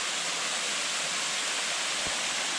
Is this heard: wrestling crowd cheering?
no